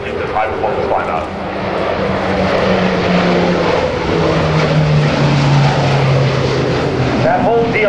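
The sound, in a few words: E-2C Hawkeye propeller aircraft climbing out at airshow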